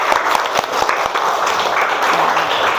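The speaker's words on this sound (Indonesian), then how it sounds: "tepuk tangan" Applause from a class of teachers during an online training session. Brief, steady clapping runs for nearly three seconds, somewhat washed out and compressed.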